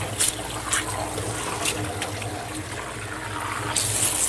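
Water runs steadily over a dog to rinse shampoo out of its coat, a close, continuous splashing and trickling wash with small bursts of spray.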